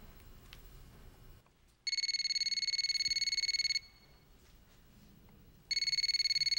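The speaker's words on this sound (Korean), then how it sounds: "에이, 전화 좀 받아." An electronic phone ringtone sounds in two long bursts of rapid pulsing tones, separated by a quiet pause, with faint background noise.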